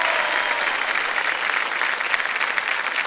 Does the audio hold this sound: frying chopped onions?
no